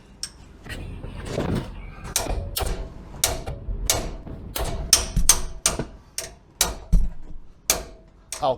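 A hammer clouts the rear axle of a 1991 Range Rover, sharp metallic strikes landing irregularly then in quicker runs, loud and close with workshop clatter between blows.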